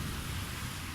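Steady rain falls outdoors in cloudy, wet weather, a continuous soft hiss with low rumbling texture and no distinct events.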